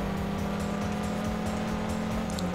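A 4x4 off-road vehicle in 1nsane races along with its engine holding a steady, loud drone and rough low rumble, punctuated by light clatters and bumps from the terrain.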